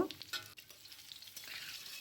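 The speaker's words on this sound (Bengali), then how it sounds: "আলুগুলো একটু ভালো করে ভেজে নেব" Potatoes frying in oil in a large kadai (wok) for a mutton curry give a quiet, steady sizzle, with a few brief stirring scrapes early on.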